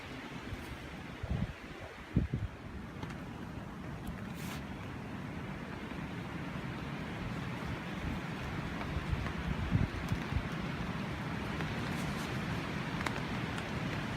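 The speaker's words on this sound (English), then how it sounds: "there's some fair wind out there" Strong gusting wind at a hammock campsite, a steady loud broadband roar with heavier gusts swelling through, continuous and close, with no voices.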